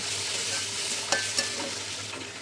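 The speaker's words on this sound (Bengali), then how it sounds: "এগুলো একটু ভেজে নেব পেঁয়াজের সঙ্গে, যেন এর কাঁচা গন্ধটা চলে যায়, সেই পর্যন্ত ভেজে নেব।" Ginger and garlic paste frying with onions in a pan for a fig curry, a steady close sizzle broken by a couple of quick scraping stirs, no voices.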